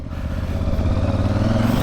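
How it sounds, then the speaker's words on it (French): KTM 950 Super Enduro motorcycle engine running close by, a steady loud rumbling drone with rough, clattering texture and slight rise in pitch, no talk. "C'est une 950 KTM Super Enduro."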